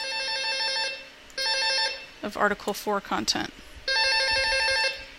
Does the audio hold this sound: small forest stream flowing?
no